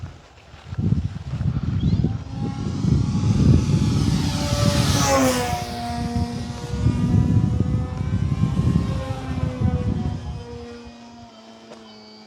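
Hangar 9 PT-19 RC model airplane, a 1435 mm scale trainer, flying overhead with a steady propeller drone that swells and fades as it passes, loudest mid-clip, with no talking.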